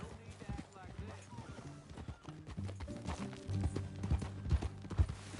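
Horse hooves clip-clop in a steady rhythm in the video game Red Dead Redemption 2, growing louder toward the end, with voices talking over them.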